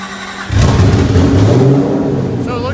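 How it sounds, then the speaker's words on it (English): A car engine revs hard on a dyno in a workshop, a loud, sustained roar that surges in after half a second and holds steady, with faint voices in the background. "Gas monkey car is on the dyno."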